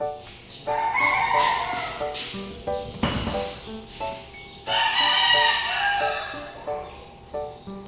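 Backyard chickens crow and cluck close by, with several loud, drawn-out rooster crows rising and falling over scattered clucks and short calls. No voices are heard.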